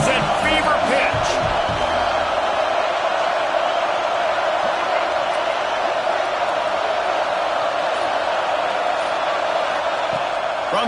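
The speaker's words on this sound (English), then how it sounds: "this crowd is at fever pitch" Roaring stadium crowd in a College Football 26 game during a third-down red-zone play, a dense, steady wash of noise held at full loudness throughout, with faint commentary mixed underneath.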